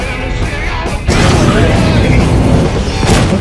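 In the space combat game Rebel Galaxy, a loud, heavy explosion erupts and sustains as a dense roaring rumble, following a brief synthetic voice alert and ending with a faint sweep.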